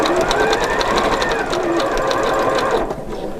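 A Janome 4120QDC-T sewing machine stitching a garment seam, a fast steady mechanical whir with a rapid rhythmic needle chatter, close and loud, easing off near the end.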